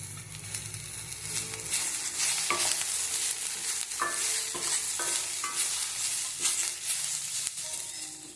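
Cashews and grated coconut roasting with garam masala in a hot pan, stirred steadily with a soft sizzle and frequent scraping clinks of the spoon against the pan, close and continuous with no talking.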